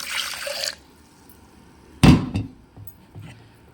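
Buttermilk splashes into a mixer jar to rinse it out for a homemade plant fertilizer: a short liquid pour up front, a single sharp knock a little later, then quieter clinks and sloshes.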